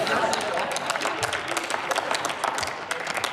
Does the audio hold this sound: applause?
yes